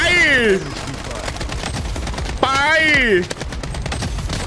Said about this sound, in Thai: ผมจะยิงให้ได้มากที่สุดแล้วกัน